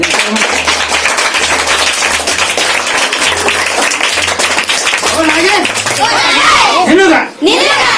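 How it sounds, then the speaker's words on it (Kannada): Schoolchildren at a motivational school event clap loudly and rapidly in a dense, sustained round of applause, with children's voices and shouts rising through it toward the end. "ಅವ್ರಿಗೆ ಜೋರಾಗಿ ಚಪ್ಪಾಳೆ ತಟ್ರಿ."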